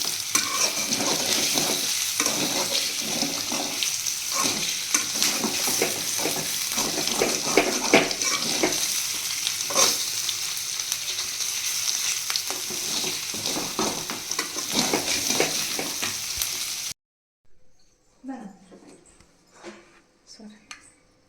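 Four spoons of oil and a little cumin sizzle loudly in a kadai pan with a constant frying hiss and a voice over it. The sizzle cuts off abruptly near the end, leaving a few faint clinks.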